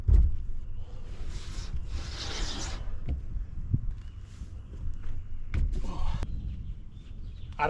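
A cloth rubs and wipes across the surface of 36-volt trolling motor batteries on a boat, leaving faint irregular scrubbing strokes and a few light knocks, with no talking.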